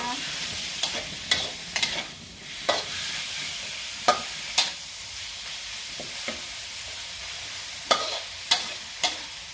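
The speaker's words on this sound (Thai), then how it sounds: "เจียวกระเทียมให้หอมก่อนนะคะ" Garlic fries in oil, sizzling steadily in a pan while a utensil scrapes and clacks against it at irregular intervals, close up.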